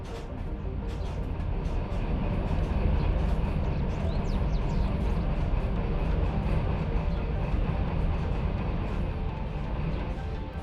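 Train cars in the video game Derail Valley roll along in a continuous loud rumble, with steady low wheel noise and occasional faint metallic squeals, no talking.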